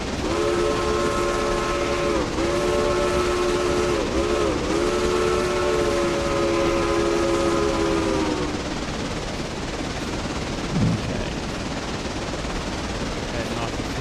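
A locomotive in a train simulator game arrives at a station with a loud, sustained multi-tone whistle lasting several seconds, then fades to a low rolling rumble of wheels and engine, with one faint knock near the end.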